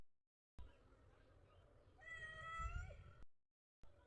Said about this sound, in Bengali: বিড়াল ম্যাও ম্যাও ডাকো।